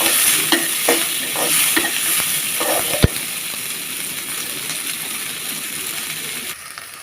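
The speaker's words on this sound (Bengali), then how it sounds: "পেঁয়াজ কুচি দিয়ে দিলাম, রসুন কুচি দিয়ে দিলাম, এটা একটু লাল লাল করে ভেজে নিতে হবে" Chopped onion and garlic frying in a pan of hot oil for a bottle gourd and pangas fish curry, with a steady bright sizzle, periodic stirring scrapes and one sharp clink partway through.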